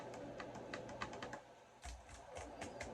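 Light, uneven clicking of the keys on a Brydge SP MAX+ keyboard for Surface, a quick scattered series of soft taps close by with a brief pause midway.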